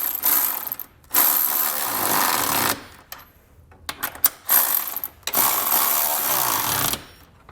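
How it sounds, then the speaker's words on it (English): Trailer hitch bolts on a 2022 Hyundai Palisade being tightened with a 19 mm socket and wrench, loud bursts of ratcheting clicks in two long runs separated by short metallic taps and pauses. "I'll be using a 19 millimeter or even a 3/4 inch socket on one side and a wrench of the same size on the other side"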